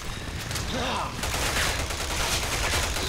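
Dense bursts of gunfire crackle from the video game Resident Evil 6, with rapid repeated shots over a busy, loud game soundscape.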